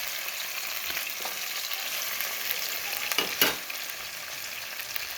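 Tagotongan meat frying in a pan, a loud, dense, continuous sizzle with a few louder stirring scrapes around the middle, close up and without speech.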